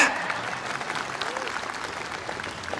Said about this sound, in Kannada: ಚಪ್ಪಾಳೆ ತಟ್ರೆ